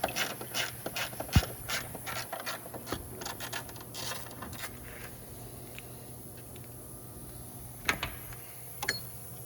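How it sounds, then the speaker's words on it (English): A ratchet clicks in quick rapid runs, removing a 10 mm bolt during front wheel bearing work on a 2012 Toyota Matrix, close and fairly quiet, then slowing to a few separate clicks near the end. "we'll go ahead and take this 10 millimeter bolt out"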